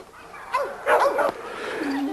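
A female dog in a breeding yard gives a few sharp yips and barks in a short burst, followed by a drawn-out whine.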